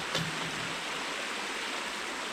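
Water in a small creek flows and burbles in a steady, continuous rush, close by and moderately loud, with no voices.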